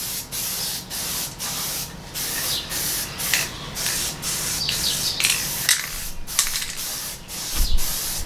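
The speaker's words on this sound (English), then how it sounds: "I try to make sure I spray down in them nostrils real good" Bursts of hissing aerosol spray paint from a can onto a deer skull for a European mount, several short and longer sprays separated by brief pauses, close and fairly loud.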